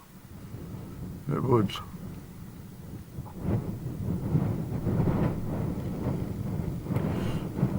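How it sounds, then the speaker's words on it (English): Gusty wind buffets a microphone on a hillside at Amulree, with low rumbling surges that swell and fade unevenly, while a person speaks briefly. "that wind is very gusty"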